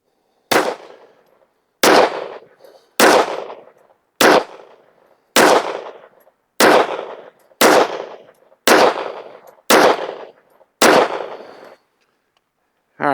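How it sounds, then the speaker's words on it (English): Ten sharp gunshots fired with Aguila 115 grain rounds at an outdoor range, loud and evenly spaced about a second apart, each crack followed by a short decaying echo, with no voices. "Let's shoot our first 10-shot group at the top left target."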